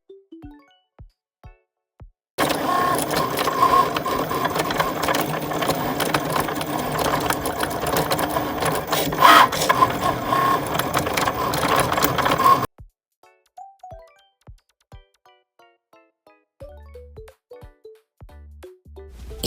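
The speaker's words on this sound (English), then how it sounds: "So I'm just gonna let this Cricut run" Cricut machine cutting sparkly vinyl: a steady, close mechanical whirring and buzzing with a sewing-machine-like drive that runs for about ten seconds, framed by quieter beeps and clicks before and after.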